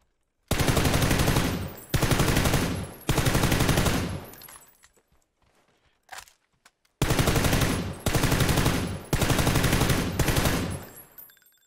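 Long bursts of rapid automatic gunfire in PUBG, loud and close, in several volleys with a short quiet gap and a single distant shot between them.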